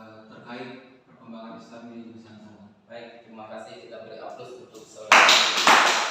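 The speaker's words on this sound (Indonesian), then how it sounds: "kita beri aplaus untuk saudara" Applause for a student in an Indonesian class on the spread of Islam in the archipelago: after talk, a loud burst of group clapping breaks in near the end and carries on to the close.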